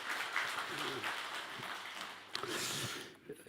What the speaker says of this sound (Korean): 하나님 영광의 박수 한번 드리겠습니다.